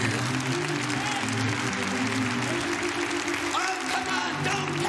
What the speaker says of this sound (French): ne soyez pas timides, acclamez le Seigneur